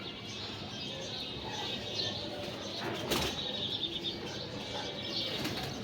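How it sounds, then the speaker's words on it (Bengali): Wings of pigeons flap in a backyard loft where about fifteen birds perch, a steady fluttering rustle running throughout with a sharper burst of flapping near the middle, with no voices over it. "এখানে মাসাল্লাহ আমার পনেরোটা কবুতর বসে"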